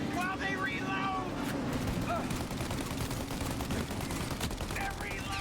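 Gunfire in the video game Mafia: Definitive Edition, dense bursts of shots over a loud continuous rumble, with voices shouting in between.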